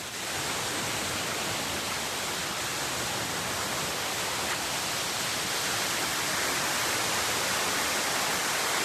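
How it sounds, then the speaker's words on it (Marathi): The Pali Hill waterfall during the monsoon gives a steady, dense roar of rushing water, loud and unbroken throughout, with no talking. "फायनली आपण येऊन पोहोचलोय पाली हिल वॉटरफॉल जवळ"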